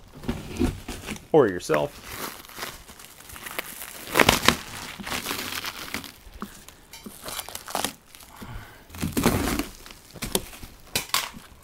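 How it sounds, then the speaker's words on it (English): Shrink wrap being sliced and pulled off a Pirelli Night Dragon GT motorcycle tire, with close crinkling, tearing and rustling plastic in uneven bursts, and someone talking throughout. "going to pull the shrink wrap off this thing"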